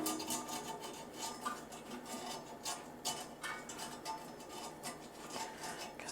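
A brush spreads oil across the basket of a Gourmia 7.6-liter air fryer, making a faint, continuous scratchy rubbing with quick repeated strokes and occasional light metallic clinks.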